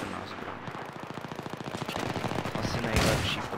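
Rapid automatic rifle fire in the video game Battlefield 3, a fast rhythmic burst of shots that grows louder toward the end, ending with a sharper crack, with no voices.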